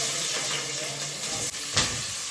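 Sliced onions being added to hot oil for chicken biryani, with whole spices already roasting, giving a continuous loud hiss and sizzle that swells briefly near the end.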